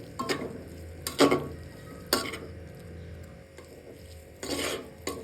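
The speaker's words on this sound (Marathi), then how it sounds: "आता त्यात आपण बारीक केलेले शेंगदाणे टाकूयात आणि चांगलं परतून घेऊयात भाजीला।" A cooked vegetable dish tossed with ground roasted peanuts in a pan, giving a low sizzle broken by several sharp scrapes and clatters of a spoon against the pan, close and without talk.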